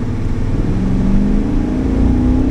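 A custom ice cream hearse accelerating at full throttle, its engine holding a steady loud drone with a slowly rising pitch throughout, close to the microphone with no talking.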